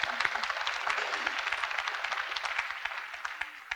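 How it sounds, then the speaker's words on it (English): Audience applause at an awards event, a steady dense patter of many hands clapping at moderate distance, sustained evenly without voices standing out. "Another round of applause."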